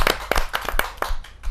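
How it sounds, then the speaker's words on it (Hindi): Audience applause at a Hindi kavi sammelan poetry recital, a run of sharp, fairly loud claps in an irregular rhythm lasting about a second and a half, with no voices over it. "जोरदार ताली के साथ।"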